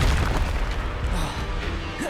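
A Confringo fire spell in Hogwarts Legacy bursts in a heavy, loud boom, and its dense low rumble and crackle carry on steadily for the whole stretch.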